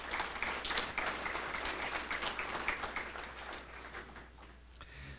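Faint, distant audience applause at a collegiate high school ribbon cutting, a steady patter of many hands that gradually fades, with a low hum beneath.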